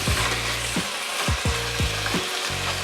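Thinly sliced chicken sizzles loudly in a hot pan, a steady close fry broken by repeated scraping stirs roughly every half second, with no talking.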